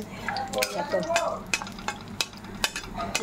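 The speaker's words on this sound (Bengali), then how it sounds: "এবার বড়িটা একটু ভেজে নিচ্ছি এর মধ্যে" Sun-dried lentil dumplings fry in hot oil in a pan, giving a close, continuous sizzle with sharp metallic clinks and scrapes of a spatula stirring, and no voices heard.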